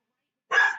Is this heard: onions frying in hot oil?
no